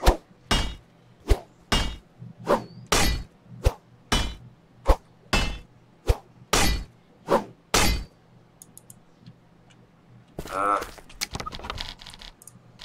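A shovel digs repeatedly in the Medieval Engineers video game, about a dozen sharp, evenly spaced metallic strikes close up, followed by a quieter stretch with a brief burst of clattering near the end.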